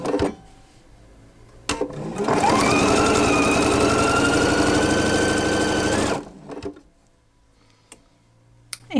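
A sewing machine stitches quilt pieces in one steady, loud run of about four seconds, with a rapid mechanical whir that starts and stops abruptly, quiet moments on either side.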